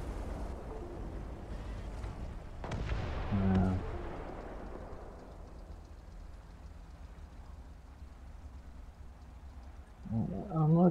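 Shells and bullets striking the player's vehicle during a War Thunder battle, heard as a dense, rumbling barrage with a sharp impact burst around the middle, fading to a low rumble before another loud blast near the end; no talking.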